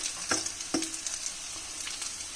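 Vermicelli broken into small pieces roasts over a low flame in a pan, giving a faint dry sizzle with a few sharp scraping clicks from stirring.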